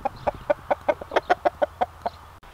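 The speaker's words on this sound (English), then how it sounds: "So I'm just gonna feed this guy to the chickens." Backyard chickens cluck steadily while being fed, a dozen short, evenly spaced clucks close by and loud against quiet surroundings.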